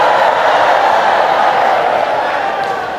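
A sermon audience applauding together: a dense, steady wash of clapping that fades slightly toward the end.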